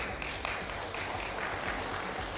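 Applause from an audience at a political election debate in Dhamtari, a short, faint stretch of dense clapping heard from a distance.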